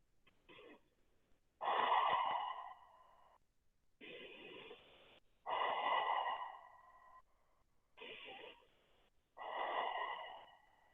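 Slow, deep breaths during a seated forward-fold yoga stretch, six distinct inhales and exhales in a steady rhythm, close and quiet.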